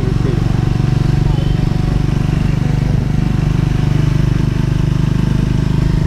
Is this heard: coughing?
no